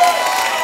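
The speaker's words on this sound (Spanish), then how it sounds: "han venido con ganas de aplaudir" Studio audience on a comedy show applauding and cheering, a dense steady wash of claps and voices throughout, loud and close.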